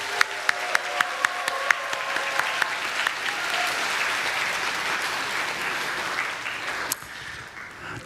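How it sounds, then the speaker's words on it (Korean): A church congregation at Sunday worship applauds a student prizewinner, with sharp individual claps at first swelling into dense, sustained clapping that cuts off abruptly near the end. "격려하는 마음으로 함께 박수로."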